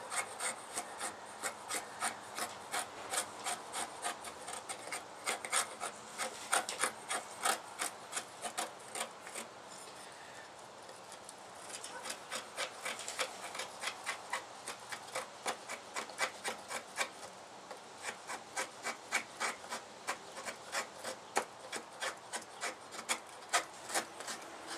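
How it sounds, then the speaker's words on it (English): A knife carves fine wood shavings and feather sticks for a flint-and-steel fire, making close, rhythmic scraping strokes in quick repeated runs with a short pause midway. "I'm not the best at making feather sticks and shavings, but these should do."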